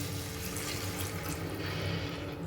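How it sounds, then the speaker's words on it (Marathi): A glass of water pours steadily into a pressure cooker of pav bhaji for a couple of seconds, ending with a sudden sharp clink. "आता याच्यामध्ये एक ग्लास पाणी घालूयात आपण"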